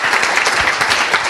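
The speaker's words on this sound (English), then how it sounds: "Let's give a quick, huge round of applause to our amazing panelists for sharing." Audience at a tech meetup claps for a panel on enterprise sales, a short, loud burst of dense, close applause with no speech.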